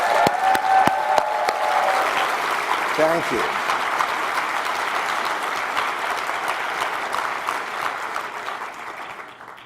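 An audience at a CEO Space event gives a speaker a big round of applause, a steady roar of clapping that carries for nearly ten seconds, with a brief thank-you spoken early on.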